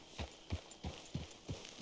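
Horse hooves clip-clop at a steady walking rhythm in the Red Dead Redemption 2 video game, six soft, evenly spaced footfalls heard quietly on their own.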